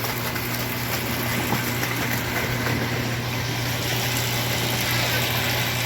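A 5 hp electric channel cleaner motor running in a dairy barn, a steady droning hum with a constant low tone and broad mechanical noise, unbroken throughout with no speech.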